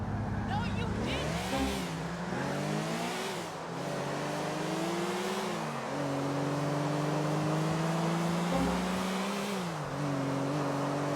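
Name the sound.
car engine driving in video game Grand Theft Auto 4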